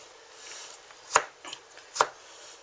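Two sharp, crisp knife-like chops cut through fresh Mennonite-grown vegetables with a small julienne gadget, with scattered softer clicks and scrapes between them and no talk.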